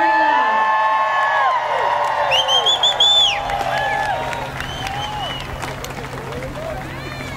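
A crowd at Atlanta Motor Speedway cheers during a skydiving display, with whoops, whistles and rising shouts layered over a constant roar, while an announcer talks over it.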